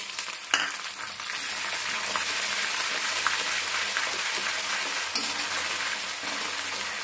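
Onions, already lightly browned, fry in hot oil with stone-ground ginger-garlic paste in a home kitchen. There is a steady close sizzle with a few sharp pops and stirring scrapes, and nobody speaks.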